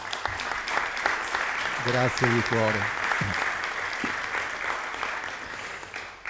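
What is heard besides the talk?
audience applause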